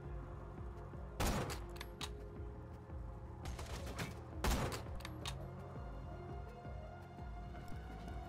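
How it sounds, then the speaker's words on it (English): Rifle gunfire in the Borderlands 2 video game: a few sharp shots over a constant hum of game sound, with two louder bursts standing out over eight seconds. "I guess we'll use an actual rifle"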